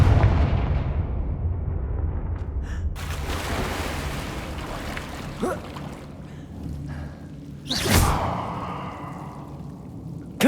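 Fiery Confringo spell blasts from a Hogwarts Legacy video game, a few loud booming bursts with rushing tails, the biggest one near the end, over a low rumbling game backdrop.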